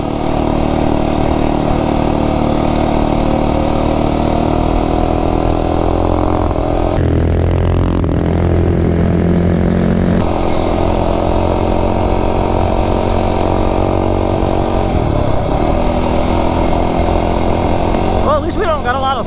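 A rebuilt Tillotson 263 kart engine runs loud and close for breaking in, droning steadily with a buzzy harmonic note that climbs and settles as it revs, continuous throughout.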